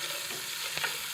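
Garlic and onions frying in a pan for braised beef rolls: a steady close sizzle with a brief stirring scrape near the end, no voices.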